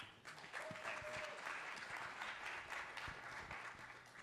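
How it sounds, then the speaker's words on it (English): Very faint applause from a tech talk audience welcoming a company CTO to the stage, steady soft clapping heard from a distance for a few seconds. "A round of applause, please."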